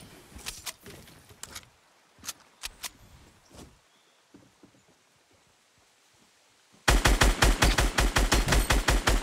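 Fortnite gunfire: scattered single shots and short bursts at first, then after a quiet stretch a loud rapid string of evenly spaced shots close by, no talk.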